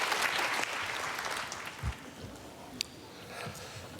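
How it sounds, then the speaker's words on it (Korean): Congregation applause at a Korean church's early-morning revival service as a pastor comes forward; a soft, steady patter of clapping fills the hall, fairly distant and low in level throughout. "목사님 나오실 때 하나님께 감사의 박수를 드리겠습니다"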